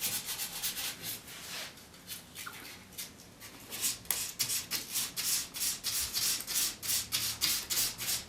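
Light hand sanding of slightly raised painted wood, a soft rhythmic scratching of abrasive strokes that starts faint and grows to a steady, regular back-and-forth rubbing, close and clear with no voices.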